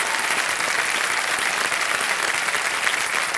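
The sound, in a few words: studio audience applauding on quiz show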